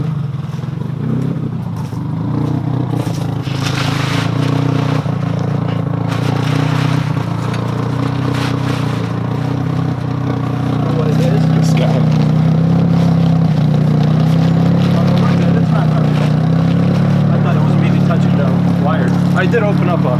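A Nissan 240SX engine with new spark plugs cranks and catches, then idles and revs in a low, steady mechanical rumble that grows louder partway through, with people talking over it.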